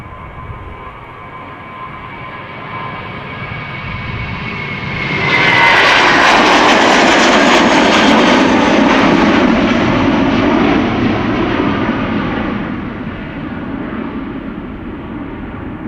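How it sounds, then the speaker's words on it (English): A Finnair jet airliner departs Amsterdam Schiphol Airport with a broad engine roar that swells sharply, holds loud and close for several seconds, then slowly fades into a steady distant rumble. "Finnair on the move."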